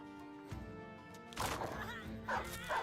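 A war dog barking in the video game Battle Brothers, with a few short barks heard over a steady musical game soundtrack.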